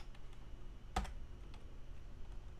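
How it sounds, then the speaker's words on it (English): Quiet typing on a computer keyboard, a handful of light, scattered keystrokes with one sharper, louder clack near the middle, over faint room hiss. "so let's say they type in Kevin"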